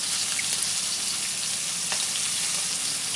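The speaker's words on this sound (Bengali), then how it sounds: "এখন আমি একে একে মাছগুলো দিয়ে দিব ভাজার" Fish pieces frying in hot salted oil in a kadai, giving a dense, even sizzle up close that continues without a break, with a few faint crackles and no talking.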